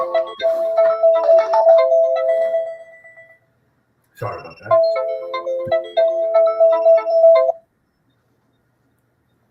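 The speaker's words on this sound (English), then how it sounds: "Phone just went crazy." A telephone rings with a repeating electronic beeping tone in two long bursts separated by a short pause, loud and close, and a person briefly speaks between the bursts.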